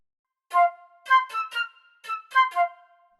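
Dry SWAM flute virtual instrument playing a short phrase of several distinct notes, some held and some quick, clear and close with no reverb, ending on a sustained tone.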